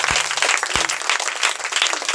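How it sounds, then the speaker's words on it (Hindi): A church congregation claps hands in praise, a dense, continuous wash of many hands from a sizable crowd with no speech over it. "हाथ उठाओ, ताली बजाकर खुदा की तारीफ करो।"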